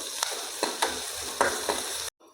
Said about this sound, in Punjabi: ਲਸਣ ਥੋੜਾ ਜਿਹਾ ਦਰਦਰਾ ਜਿਹਾ ਕੁੱਟਿਆ ਹੋਇਆ ਹਲਕਾ ਜਿਹਾ ਆਪਾਂ ਇਹਨਾਂ ਨੂੰ ਭੁੰਨ ਲਾਂਗੇ